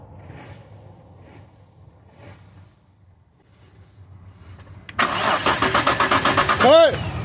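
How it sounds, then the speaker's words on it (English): After quiet talk, a BMW 325i engine cranks over with a rapid, rhythmic churning that continues loudly for a couple of seconds, a voice briefly rising over it. "then we just turn the engine over"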